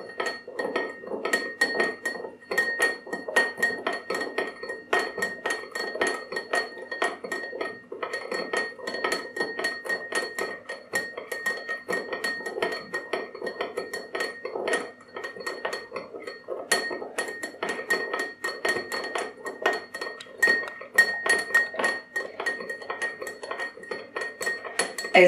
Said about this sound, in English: With this one, I'm going to stir while I leave the other one to sit.